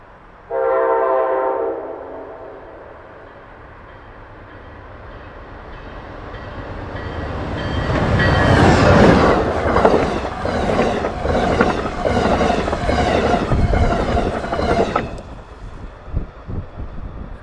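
An Amtrak passenger train on the Keystone Corridor speeds past in falling snow near Roy, with a brief horn blast at first, then a rising roar as it nears and a loud rush and clatter of cars passing close by.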